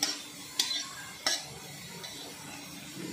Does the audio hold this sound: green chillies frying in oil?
yes